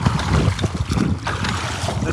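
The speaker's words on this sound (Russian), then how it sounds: "Начинается шторм, дует сильный ветер." Strong wind roars and buffets the microphone in loud, broadband gusts at the start of a storm on the Turkish coast, with a low rumble underneath throughout.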